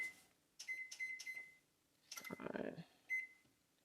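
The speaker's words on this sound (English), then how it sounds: "And we're gonna set this cook timer." An oven cook timer gives short electronic beeps as buttons are pressed to set it: a few quick tones, then a longer tone and one final beep, faint and close, with a voice speaking in between.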